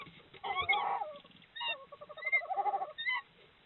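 Tawny owls call at a nest in an ash wood with young owlets. Hoarse hooting and wavering calls come in several bursts, close and moderately loud, with brief quiet gaps and no voices.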